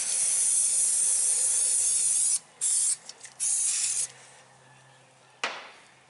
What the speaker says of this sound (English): douse that again with my penetrating oil